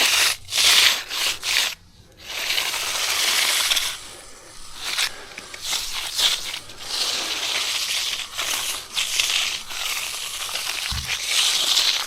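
A hand float rasps and scrapes across fresh concrete on a slight incline, in repeated close strokes separated by short pauses.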